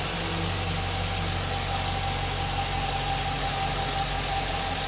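A 2007 GMC Sierra Z71 with a 5.3 liter Vortec V8 runs at a steady idle nearby, an even low rumble with a faint whine, with no talk over it.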